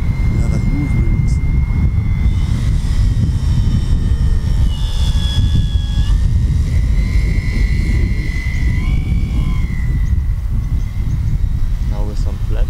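A handbuilt ultralight Pilatus PC6 RC model plane flies with its engine at part throttle, a steady continuous drone with a faint whine shifting in pitch as it passes. Light wind noise runs throughout.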